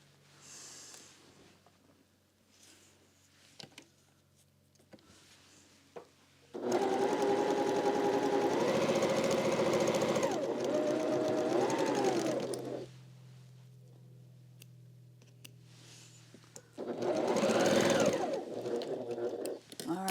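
A sewing machine stitches quilt pieces in two loud, steady runs. The first lasts about six seconds and the second is shorter, with quiet handling sounds and pauses between them.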